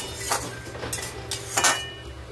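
A spoon clinks against a cooking pot while stirring a Bengali ilish (hilsa) fish head curry with ash gourd. A few sharp metallic taps ring out at uneven intervals over a soft background hum.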